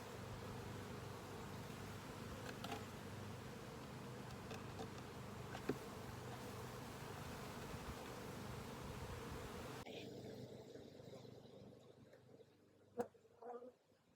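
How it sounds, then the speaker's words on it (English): Honey bees drone steadily inside a hive box during a spring hive inspection, a dense, continuous buzz close by that drops away abruptly near the end, leaving a few faint sharp noises. "Now, this box is the box that they were using, so there are bees all in it."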